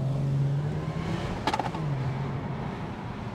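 Supercharged Jaguar XFR-S engine humming steadily with a brief sharp rev burst midway, then settling back to a smooth, moderately loud drone with no talking.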